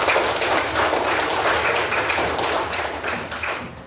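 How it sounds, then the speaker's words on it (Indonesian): A classroom of fifth-grade children claps together for a group, a dense, steady patter of many hands filling the whole stretch and tapering slightly at the end. "Tepuk tangan buat kelompok."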